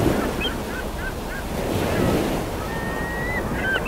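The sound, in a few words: ocean waves and surf with wind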